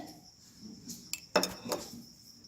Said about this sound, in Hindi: 2 चम्मच ठंडाई का घोल डालेंगे